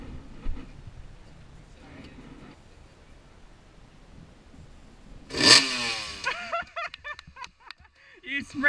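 A motorcycle engine during a riding lesson outdoors, a low idle rumble that swells into a short, loud rev before voices take over.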